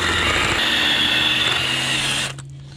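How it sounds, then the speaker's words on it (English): A power drill whines steadily at close range while drilling out a screw, a loud high-pitched grinding drone that cuts off abruptly near the end, leaving a low hum. "my favorite way to get them out is just to put a little drill bit on there and just to drill it right out."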